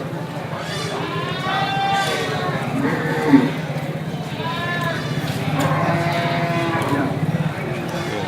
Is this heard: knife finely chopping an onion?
no